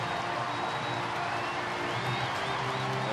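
A Major League Baseball crowd in Philadelphia roars and applauds in a steady wash of cheering as a batter is introduced, Baltimore visiting in 2009, with noise filling the ballpark throughout.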